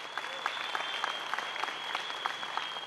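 Audience applause at a corporate success-story event in Singapore, steady close clapping from a crowd throughout, with a faint tone held underneath.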